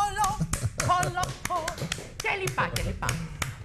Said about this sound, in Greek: Ίσως να είναι το πιο φτωχό χειροκρότημα που έχεις πάρει 2-3 εδώ μέσα.